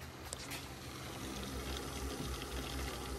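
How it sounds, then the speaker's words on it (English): An electric coolant pump runs in a DeLorean EV conversion, giving a faint, steady whirring and watery trickle with no voices. "I don't know if you can hear that, but the pump is running."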